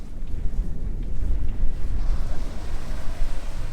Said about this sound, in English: strong wind this morning.